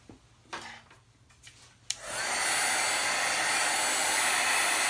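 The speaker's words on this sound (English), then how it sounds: "I'm going to bring in my heat gun" A heat gun switches on and blows hard and steady to dry a watercolored paper card, a loud broadband whoosh that runs unbroken after a few soft handling rustles and a sharp click.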